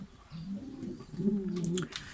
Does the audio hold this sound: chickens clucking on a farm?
no